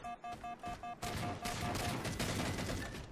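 Multiplayer gunfire in Halo 4: a few clipped, evenly spaced bursts at first, then a dense unbroken rattle of rapid shots that keeps going at full loudness to the end.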